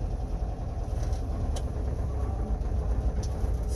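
An old manual-transmission car with manual brakes and an engine knock runs steadily as it is driven into a shop, a continuous low engine rumble with faint clicks and no talking.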